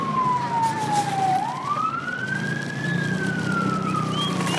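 Police patrol car siren wailing steadily up and down, moderately loud and fairly close, over street background during looting unrest in Mexico.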